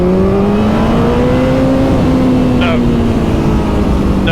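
Kawasaki ZZR1400 motorcycle accelerating hard in second gear, loud engine note climbing steadily in pitch with heavy wind rush, recorded up close from the rider.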